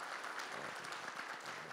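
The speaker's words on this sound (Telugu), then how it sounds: "కొంచెం బాగానే కొట్టచ్చు చప్పట్లు" Steady applause from an audience at a film pre-release event, a dense even wash of clapping that holds at a constant moderate level throughout.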